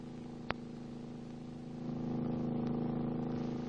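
Boeing B-29 Superfortress number one engine starting, a low steady mechanical hum with a sharp click early on, then swelling louder as the engine winds up and settles into a droning rumble.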